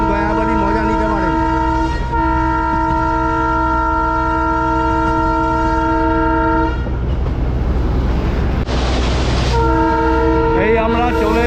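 Darjeeling toy train on the Gayabari jungle ride sounding a long, loud, steady horn blast close by, a second horn note near the end, with rumbling running noise underneath throughout.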